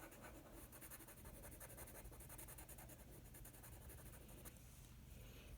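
Yellow colored pencil scratching on paper while colouring daylily petals, a faint, steady, close-up scratchy rubbing with rapid repeated strokes.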